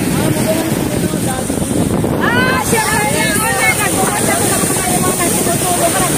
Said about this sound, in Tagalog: Ang lakas ng hangin mga babayan.